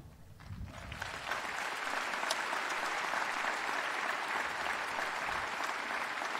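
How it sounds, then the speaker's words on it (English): Sustained applause from a large audience at the 2021 Notre Dame commencement address, swelling after a brief start and holding as a dense, even roar of clapping. "I didn't factor in any applause"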